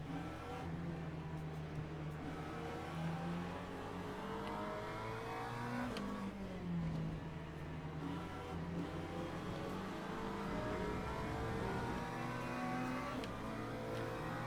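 Engine of a McLaren race car in the sim racing game Le Mans Ultimate, a steady loud drone with rising and falling revs, shifting pitch around the six-second mark, running continuously with no talk.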